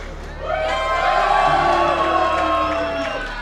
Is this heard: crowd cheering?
yes